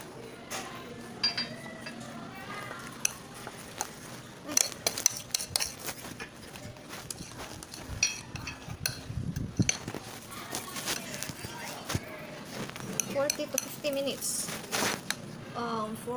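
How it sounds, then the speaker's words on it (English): A spoon clinks and scrapes against a pan while an Oreo and cream mixture is stirred, with irregular metallic taps and knocks and people talking nearby. "Stir this."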